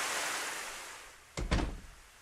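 A front door opens in the video game YOU and ME and HER, a quick double thud of the door landing after a stretch of soft background hiss, with no voices.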